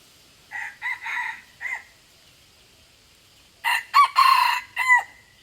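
A jungle fowl rooster crows twice, each a shrill multi-note call, with a short pause between; close and clear, no talk.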